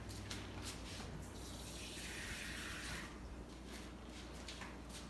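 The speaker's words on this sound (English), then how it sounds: "We want to cover the cucumbers with the water. Actually, I get just a little bit more water." Water runs steadily into a jar of cucumbers being covered with brine for lacto-fermented Israeli pickles, a continuous close splashing and gurgling stream with small shifts in pitch as the vessel fills.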